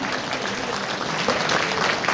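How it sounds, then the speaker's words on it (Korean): Steady applause from an audience at a book concert, dense and sustained clapping that swells slightly toward the end. "우리 세 분께 다시 한번 뜨거운 박수 부탁드립니다"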